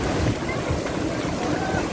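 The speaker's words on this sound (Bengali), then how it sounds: "অনেক ঢেউ আছে।" Ocean waves at Cox's Bazar beach roll in as a steady, broad wash of surf, with gusty wind buffeting the microphone throughout.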